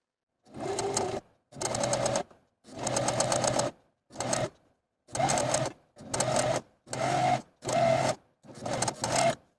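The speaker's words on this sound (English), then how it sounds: "take it to your sewing machine and using a zigzag stitch, a twin needle, or a cover stitch machine, sew close to that inner raw edge all the way across" A sewing machine stitches a hem along the inner raw edge of dress sleeves in nine separate close bursts, each about a second long and separated by short pauses, with a rapid mechanical whirring chatter.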